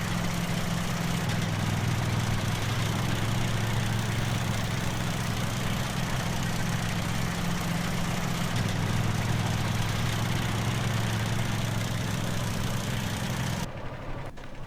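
A 4-cylinder petrol mower engine in Farming Simulator 17 idles steadily and loudly, holding a low droning hum that shifts pitch slightly now and then and cuts off abruptly near the end.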